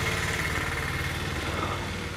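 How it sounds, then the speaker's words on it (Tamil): A Royal Enfield motorcycle fitted with a 12-volt LiFePO4 battery runs at a steady idle, its engine a close, even rumble throughout with no talking. "இன்ஜினுடைய நாய்ஸ், செல்ஃப் நாய்ஸ்"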